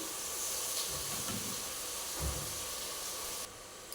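Brinjal bajji slices sizzle in hot oil with a steady, close frying hiss that carries on unbroken, a few soft bumps sounding partway through and the level dropping slightly near the end.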